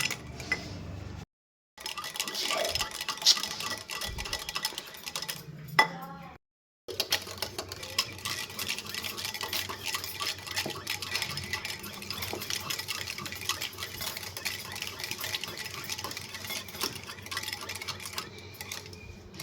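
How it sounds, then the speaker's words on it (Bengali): Ice cubes clinking and rattling against a bowl as yogurt is whisked, a busy irregular clatter with two brief pauses, fairly quiet and close. "দইয়ের মধ্যে আমি দিয়ে দিচ্ছি আইস কিউব নিয়ে দইটা আমি ফেটিয়ে নেবো"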